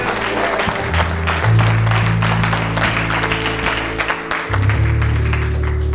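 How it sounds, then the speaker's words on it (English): A church congregation claps together in sustained applause, with a low musical drone or organ tone underneath throughout. "Give God a hand clap of praise."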